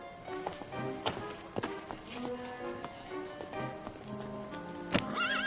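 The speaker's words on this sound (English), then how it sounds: "That's my horse." Horse hooves clip-clop in a steady walking rhythm while the horse neighs and whinnies repeatedly, the calls rising and falling close by, with a sharper whinny near the end.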